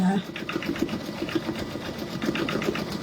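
A Brother embroidery machine stitches a penguin design with a steady, close, rhythmic mechanical whir and a fast repeating needle clatter that runs throughout.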